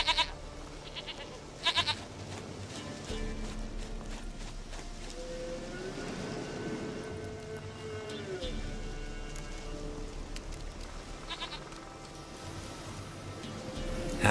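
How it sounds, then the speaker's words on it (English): Goat bleats in The Witcher 3 video game, a few wavering cries in the middle of steady rain-like ambience, with no talking over them. "Goat of mine, dearest, sweetest goat."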